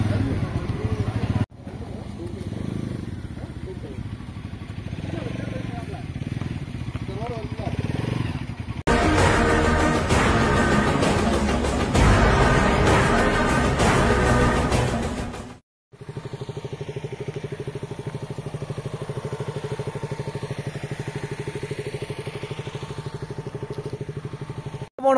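A motorcycle sets off from a mechanic shop after a breakdown repair on a Kodaikanal trip, its engine droning steadily and close, with a louder rough revving stretch in the middle and a brief cutout before the hum resumes.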